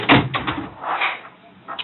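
A door in a police interview room is pushed shut, giving a close thump and latch clatter at the start followed by softer shuffling and handling sounds.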